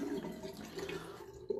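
Water poured into a bowl, a short soft trickling and gurgling pour that is fairly quiet and close, ending with a small splash.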